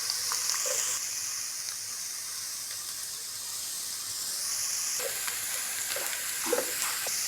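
Onions frying in a pan for daal mash give off a steady close sizzle and hiss, with a few soft stirring clinks scattered through.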